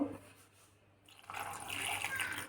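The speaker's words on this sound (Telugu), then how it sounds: "కొద్దిగా వాటర్ యాడ్ చేసుకొని మిక్సీ వేసుకోవాలి ఫ్రెండ్స్." After a quiet second, water runs into a mixer jar of chopped beetroot as a soft, close trickling pour that keeps flowing to the end.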